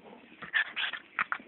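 A dog whimpers and whines in short, high, fairly quiet bursts that rise and fall irregularly, with a few yips mixed in and no talking.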